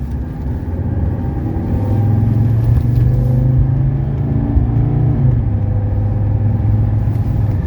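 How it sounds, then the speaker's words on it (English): A 1982 Mercedes 300SD diesel sedan on a test drive, its engine a steady, close low rumble with interior road noise throughout and no talking. "This is my first official test drive in this vehicle."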